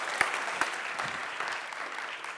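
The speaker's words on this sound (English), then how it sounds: "Another round of applause, please, for Charlotte and her great talk." A conference audience gives a round of applause after a talk, a steady, full-room clapping with a few sharp individual claps early on that gradually thins toward the end.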